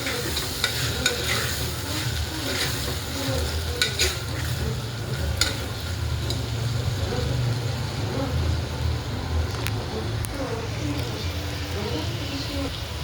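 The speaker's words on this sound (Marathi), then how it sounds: "नंतर आपण तांदूळ टाकणार आहे. तेलामध्ये जरा भाजून घेतल्यावर एक जीव करून घेऊया." Washed rice roasts in oil in a pan for masala pulao, crackling in a continuous close sizzle with scraping stirs and occasional metallic clinks, and a low hum runs underneath.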